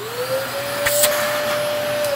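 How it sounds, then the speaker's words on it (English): Vacuum cleaner cleaning out the grind chamber and burr carrier of an Ascaso i1 or i2 coffee grinder, a steady close whine holding one pitch throughout with brief bursts of hiss as it sucks up grounds, no talk. "you'll turn on the vacuum cleaner."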